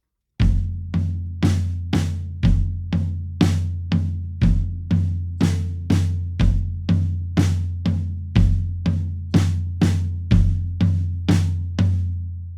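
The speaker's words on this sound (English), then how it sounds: "Now all we have to do is add the bass drum on beats 1 and beats 3." A full drum kit groove from a song: floor tom eighth notes, snare backbeats and bass drum on beats 1 and 3, repeating steadily and loudly for several bars with nothing else heard.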